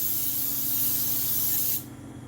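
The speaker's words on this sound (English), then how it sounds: "I want to get out my spray, non-stick spray here, and I want to really spray this." Non-stick cooking spray hisses from a can into a pie dish in one steady, close burst lasting nearly two seconds before cutting off abruptly.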